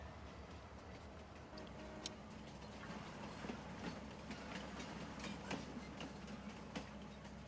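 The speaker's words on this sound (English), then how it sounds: "So where is this train going then?" A train rolling along railway tracks in Farming Simulator 19, a steady rumble with repeated faint ticking clicks of the wheels, continuous throughout and with no one talking.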